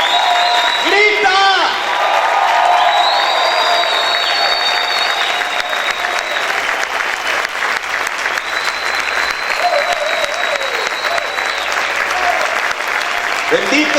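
A church congregation breaks into loud, sustained applause and shouting that fills the whole stretch, dense and continuous, with voices calling out over the clapping.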